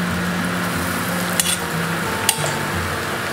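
Battered aubergines fry in oil heated to about 180 degrees, a steady dense sizzle throughout, broken by two sharp clinks of utensils against the pan.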